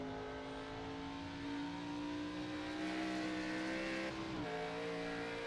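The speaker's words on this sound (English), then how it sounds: "You can hear his engine bog down a bit." An ARCA race car's engine at Watkins Glen drones with a steady, loud, close tone that sags and dips briefly near the end as it bogs down, with no voices.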